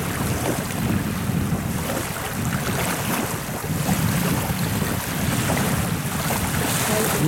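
Waves lap continuously on a river where wild swans swim, under heavy wind buffeting the microphone, with a steady washing roar and no voices.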